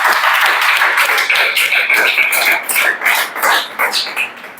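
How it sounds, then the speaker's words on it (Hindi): Students in a Chhattisgarh police recruitment coaching class clap together, a dense burst of hand claps that stays loud for several seconds and then breaks into uneven, tapering claps. "चलो ताली बजाओ"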